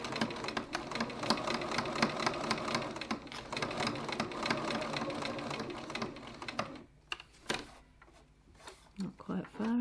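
Sewing machine back stitching a wallet in rapid bursts of mechanical chatter, stopping for a pause before the last few seconds with a voice talking alongside.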